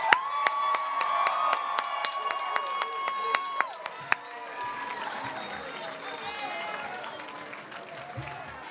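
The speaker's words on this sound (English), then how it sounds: "One last round of applause for the graduates." A crowd at a 2019 Helensview High School graduation ceremony claps and cheers in a sustained round of applause, with a tonal whistle-like note early on and background crowd noise.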